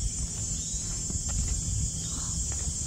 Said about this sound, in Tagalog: Narinig niyo ba yun? Kuliglig. Kuliglig yun.